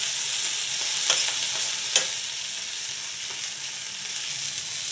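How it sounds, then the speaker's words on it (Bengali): Prawns frying in hot oil in a pan for a ridge gourd and potato curry, a constant bright sizzle with a few stirring scrapes and clicks, close and steady with no voices. "তো এখানে চিংড়ি মাছটা ভালোভাবে ভেজে নিব।"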